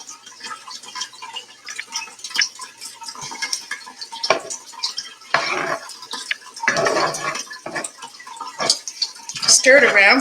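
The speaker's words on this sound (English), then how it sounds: "Stir it around so the flavor gets infused in all the oil." Garlic stirred around in hot oil in a pan, with a spoon scraping and tapping the pan in irregular bursts over a low background.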